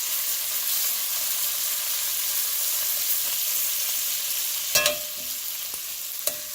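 Food sizzles steadily in a pan on a camp stove at a spring camporee, a continuous close frying hiss broken by a few sharp clatters near the end as the pan shifts.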